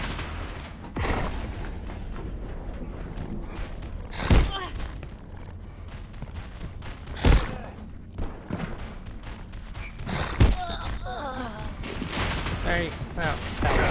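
Gunfire in the video game Abiotic Factor, with three loud, sharp blasts standing out over a continuous busy game soundscape, plus occasional mechanical thumps and a voice speaking in the background.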